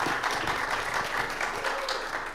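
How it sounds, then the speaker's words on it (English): Audience applause for a group of improvisers at a live TEDx event, a steady dense wash of clapping that holds at an even level throughout without letting up. "Give a warm round of applause for our wonderful improvisers"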